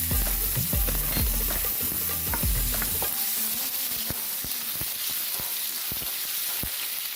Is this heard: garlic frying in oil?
yes